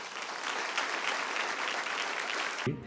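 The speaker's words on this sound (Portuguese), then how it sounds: "Aplauda o nome de Jesus." Dense, steady applause from a church congregation filling the room, a continuous wash of many hands clapping that cuts off abruptly at the end.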